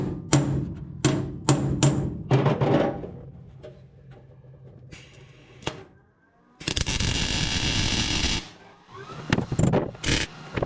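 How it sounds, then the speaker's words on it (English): Several sharp metallic hammer taps from a body hammer on a new sheet-metal floor pan in a Datsun 280Z, in quick bursts, followed by a loud sustained grinding or air-tool noise, then more tapping. "either just using my body hammer"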